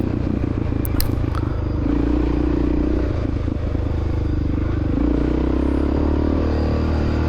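A 1993 Honda XR600R dirt bike is ridden at speed in an off-road cross-country race, its big single-cylinder engine droning loud and steady. The pitch shifts as the rider changes gears, with clattering and scraping from the rough terrain.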